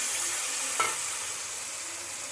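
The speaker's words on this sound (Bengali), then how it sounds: "মশলাটা ভাজা ভাজা হয়ে এসেছে, তাই জন্য দিয়ে দিচ্ছি পরিমাণ মতো জল।" Water poured into a pan of frying ground spices (salt, turmeric, fennel and cumin powder) for a mixed vegetable curry, giving a steady close hiss of sizzling oil with one brief splash as the water lands.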